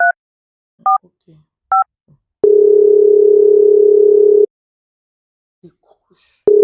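Touch-tone keypad presses on a telephone, three short dual-tone beeps spaced about a second apart, followed by a long steady tone lasting two seconds, with faint rustles and another tone starting at the end; no talking.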